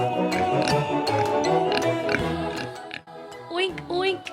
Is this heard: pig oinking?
yes